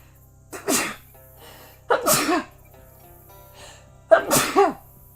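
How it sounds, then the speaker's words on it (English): Three sharp sneezes, evenly spaced about one and a half seconds apart, close and fairly loud over a quiet low hum. "Oh, gotta sneeze."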